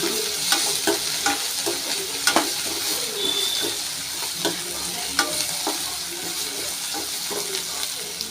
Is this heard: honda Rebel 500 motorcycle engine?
no